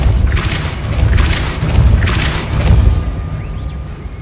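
The Depulso spell is cast in the Hogwarts Legacy video game, producing three deep, booming whooshes in a row, each swelling and fading, followed by a quieter tail.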